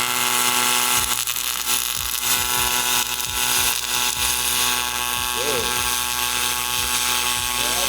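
MIG welding with a spool gun, the machine turned up while the weld runs: a loud, steady buzzing crackle fills the whole stretch, with faint voices underneath.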